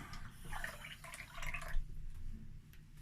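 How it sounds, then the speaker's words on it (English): Water from a hand-washing tap splashes and drips in a sink as the tap is shut off with an elbow, a few irregular close drops and trickles that thin out toward the end. "we're going to turn off the water, and we don't want to touch the taps with our new nice clean hands"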